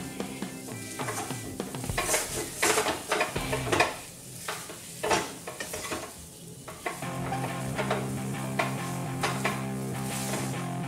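Moong dal kachori filling with salt roasts over a low flame, a spoon repeatedly scraping and knocking against the pan over a steady sizzle, the stirring strokes coming in uneven bursts.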